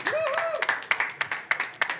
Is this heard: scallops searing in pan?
no